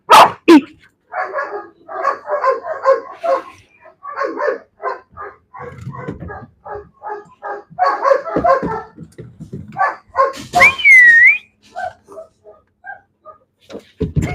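German shepherd dogs barking during bite work training, rapid bursts of loud close barks in repeated volleys with short pauses, a few yips and whimpers mixed in.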